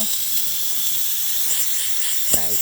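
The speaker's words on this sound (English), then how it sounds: "Nice steam coming out of the machine." Steady, loud hiss of steam jetting from the steam wand of a DeLonghi Magnifica XS espresso machine, continuous and close, with a brief rattling tick near the end.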